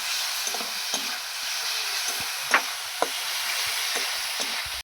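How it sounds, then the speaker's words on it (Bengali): Snails sautéing in a pan with salt and ginger-garlic paste, a steady hiss of frying broken by several distinct scraping stirs and a couple of sharper knocks from the spatula, close and alone. "লবণ দিয়ে দেবো দিয়ে না নাড়বো আদা রসুন বাটাটা দিয়ে দিয়ে ভালো করে কষে নেব"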